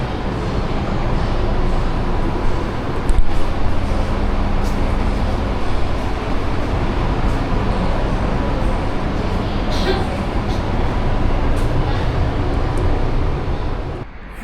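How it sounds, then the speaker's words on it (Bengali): A metro train pulls into a Guangzhou station, making a continuous loud rumbling roar of wheels and motors that fills the platform for the whole stretch. "এখন আমাদের ট্রেন এসে পড়ছে"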